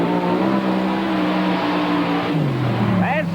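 Mud racing car engine held at full throttle at a 1991 NMRO mud race in McComb, Mississippi: a loud, sustained roar whose pitch dips and then climbs again near the end.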